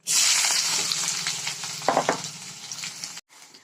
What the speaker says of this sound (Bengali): চলো এবার কিন্তু আমি পেঁয়াজটাকে কড়াইতে দিয়ে দিই।